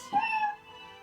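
A single short cat meow, clear and close, fading quickly.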